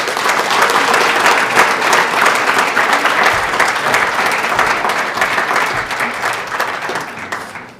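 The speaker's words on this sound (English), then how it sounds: "A big round of applause for Bill Underwood." A large audience at an awards ceremony gives a loud, sustained round of applause, thick, even clapping that carries on for several seconds before fading slightly at the close.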